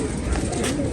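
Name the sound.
pigeon cooing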